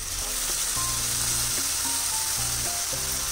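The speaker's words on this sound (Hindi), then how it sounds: "नारियल को इस तरीके से चलाते रहना है ताकि कढ़ाई में वो पकड़े नहीं" Grated coconut roasting in a kadai while being stirred for a coconut laddu, giving a steady dry sizzle with soft scraping and tonal clinks from the spatula, close and continuous throughout.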